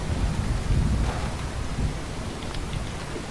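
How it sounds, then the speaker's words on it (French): Rain pours steadily in Fallout 4 while a deep thunder rumble rolls loud through the first second, then the rain hisses on evenly to the end. "Il pleut à travers."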